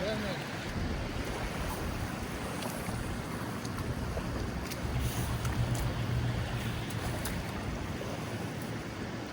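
Rough water churning in a windswept estuary at Fleetwood, a steady broadband wash of waves with wind buffeting the microphone, continuous and fairly loud throughout with no talking.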